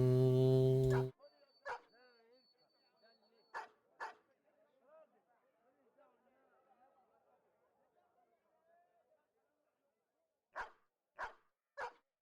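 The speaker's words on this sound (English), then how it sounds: "Big dogs. Big dogs!" Large dogs in the video game Battle Brothers, heard as a loud opening burst followed by several sharp barks spaced across the clip, with quieter growling chatter between them and three more close barks near the end.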